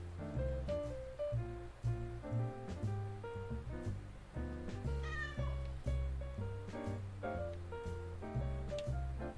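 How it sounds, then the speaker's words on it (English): Cartoon cat meows from the video game Hidden Cats in New York pop up repeatedly over a bouncy, rhythmic game music loop, with a short rising chime partway through, all steady and clear. "there's a kitty right there"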